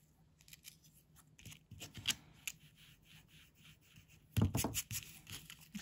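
Scissors snip through paper strips while a simple pop-up greeting card is being made, with a quiet run of crisp close cuts and a louder, denser burst of snipping near the end.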